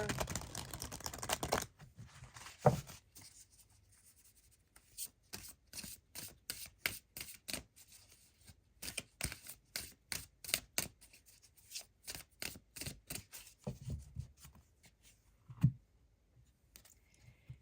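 Tarot cards are shuffled by hand in a quiet room as a long run of quick, crisp, papery riffles and taps, near and fairly soft, with short pauses between bursts and no talking.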